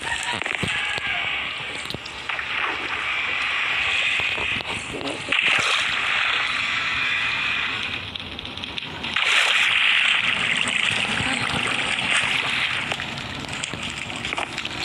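Continuous splashing and sloshing water in Minecraft, a steady game-like wash, occasional sharper splatters rising over the flow.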